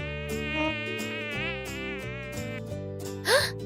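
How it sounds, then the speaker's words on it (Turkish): Flies buzz in an animated Barbie and Ken short, a sustained whiny, harmonic drone that wavers and shifts pitch, ending in a brief rising squeak. "sinekleri uzaklaştır"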